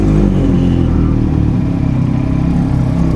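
A sport motorcycle with a fuel-injected engine runs loud and close, its engine holding a steady rough drone with slight rises in revs and a mechanical clatter throughout, without talk.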